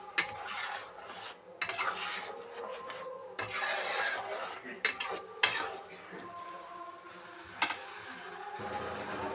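A spoon stirs matar paneer in a metal pan, making repeated scraping, rasping strokes with clinks of the utensil against the pan, close and uneven in rhythm, with no talking.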